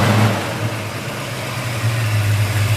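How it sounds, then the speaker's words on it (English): A 1969 Chevrolet Chevelle with a big-block V8 idles close by, a loud, steady, deep rumble with a slightly lumpy pulse and no voices. "Nice sounding big block."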